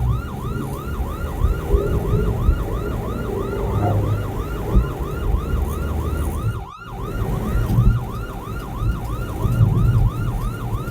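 An ambulance siren wails in a steady, repeating rise-and-fall pattern over rumbling traffic noise, with engines idling close by.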